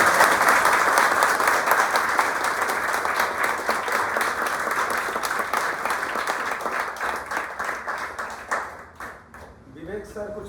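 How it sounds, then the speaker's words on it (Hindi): Loud, sustained applause welcomes a speaker at an event in Patna, with individual claps growing more distinct as it thins out toward the end and a voice comes in. "जोरदार तालियों से स्वागत"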